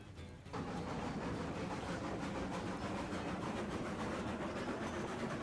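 A train runs in a railroad video game with a steady, fairly faint rolling rumble that starts abruptly and then continues evenly with faint rhythmic clatter.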